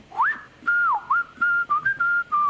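A person whistles a melodic hook alone, clear and close, a rising opening note followed by a run of short sustained and sliding tones in a steady rhythm.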